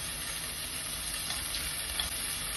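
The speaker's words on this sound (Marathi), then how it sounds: "हे सर्व चांगलं आता परतून घ्यायचं आहे." Onions, green chillies and garlic sautéing in a pan, a steady, fairly loud sizzle with a faint hiss that runs evenly through the whole stretch, with no voices over it.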